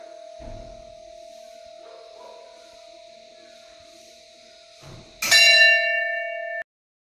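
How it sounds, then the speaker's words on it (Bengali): A bell on a turning prayer wheel near Khecheopalri Lake rings with a steady ongoing tone, then a sharp loud strike near the end rings out bright before cutting off abruptly. "ওই ঘন্টাটা বাজছে যতক্ষণ ঘুরছে।"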